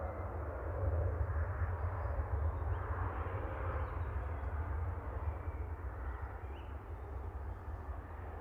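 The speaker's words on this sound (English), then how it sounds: "I'll get the Eurowings going, that's taxiing out" A Eurowings airliner taxis out at Manchester Airport in the evening, a faint, distant, steady low engine rumble that holds unchanged with no voices.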